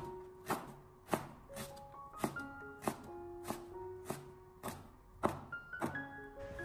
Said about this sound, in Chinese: 最后，我们再将红辣椒改刀切成小丁。